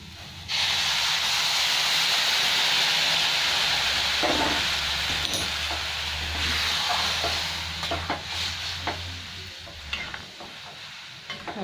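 Hot water is poured into a hot pan of Bengali masoor dal with bitter gourd and sets off a loud, steady sizzling hiss. Later the hiss eases into softer bubbling, with scattered crackles and scraping.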